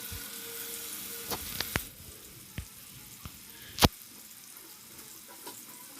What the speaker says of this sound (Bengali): তো মাছ আমি ভেজে নিচ্ছি ফ্রাই প্যানে।